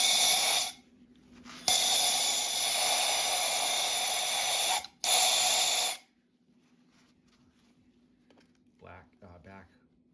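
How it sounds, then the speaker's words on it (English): Brake cleaner sprays into a 2023 KTM-Husqvarna 350 motorcycle cylinder head in long, loud, close hissing bursts broken by short pauses, then the spraying stops, leaving faint handling noises and a brief voice. "I'm gonna spray some brake clean in here before I take this apart"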